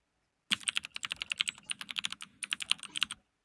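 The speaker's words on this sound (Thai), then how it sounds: "ผมชอบตรงที่มีเสียงพิมพ์คอมพิวเตอร์ด้วย" Rapid, uneven clacking of keys on a computer keyboard, close and crisp, with a brief pause midway before the typing resumes.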